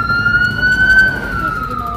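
An ambulance siren wails loud and close with a sustained, slowly shifting tone over traffic rumble.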